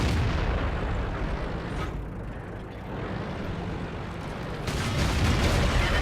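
Tank cannon fire in World of Tanks, a Tiger P in battle: heavy booming blasts with rumbling decay, one fading through the middle and another loud blast near the end, with no talking.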